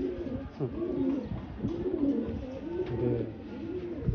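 Racing pigeons at a loft coo in low, throbbing, overlapping calls, close and continuous, with a faint murmur of a voice in the background.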